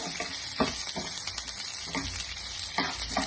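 Mustard seeds sizzle and crackle in hot oil in a pan for toor dal saaru, a close, steady frying hiss with scattered sharp pops and stirring scrapes throughout.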